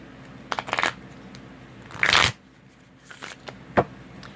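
Full moon oracle cards are shuffled by hand in a few quick riffling bursts, close and crisp, separated by quiet gaps and ending in a single soft slap.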